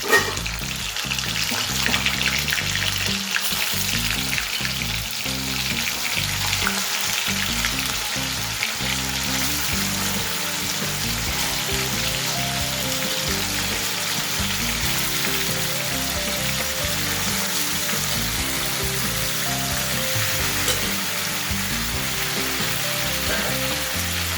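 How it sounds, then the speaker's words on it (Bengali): Marinated chicken pieces fry in hot oil with whole spices and cinnamon sticks for a chicken curry, giving a loud, steady sizzle that runs unbroken throughout, with occasional stirring and no voices. "ম্যারিনেট করে রাখা চিকেনের টুকরোগুলো আমি এই তেলের মধ্যে ছেড়ে দেবো"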